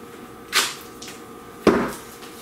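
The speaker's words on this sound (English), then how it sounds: "we are going to make sure we get it all sealed up properly with some proper duct tape" Two short, crisp tearing rasps of duct tape pulled off a roll to seal a dryer vent duct, about a second apart, over a quiet background.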